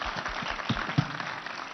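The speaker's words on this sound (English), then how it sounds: "I think you should clap for Mogaka." Audience clapping at a talk by a university student, a brief dense patter of many hands, moderately loud and fairly close.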